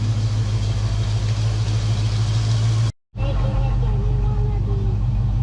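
A Foxbody Mustang 5.0 V8 idles steadily after its EGR valve was cleaned, a loud close low rumble with an even pulse, broken by a brief cut of silence near the three-second mark before the idle resumes.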